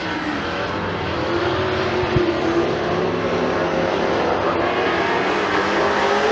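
Race cars at McKean County Raceway roaring down the back straightaway into turns three and four during a heat race, a dense continuous engine drone at moderate distance with little distinct pitch change and no speech.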